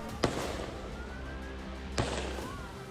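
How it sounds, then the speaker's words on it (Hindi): Two sharp gunshots crack about two seconds apart in news footage of a terrorist shooting at Bondi Beach, distant and echoing over a steady background hum. "जो आतंकी ब्रिज के ऊपर से गोलियां चलाता है वो बार बार अपनी पोजीशन बदलता है।"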